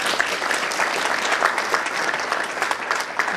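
An audience applauds committee members at a community awards evening: steady, dense clapping from a crowd, even and sustained throughout.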